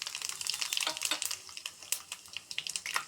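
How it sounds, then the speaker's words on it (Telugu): Mustard seeds, cumin, garlic, curry leaves and dried red chillies fry in a small pan of hot oil for a tempering, giving a close, busy crackle and sizzle with irregular popping throughout. "కొంచెం ఇవన్నీ బాగా ఫ్రై చేసుకోండి."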